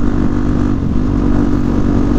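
Motorcycle engine droning steadily and loudly while riding in fifth gear, a close continuous mid-low rumble with slight fluctuations in revs and no speech.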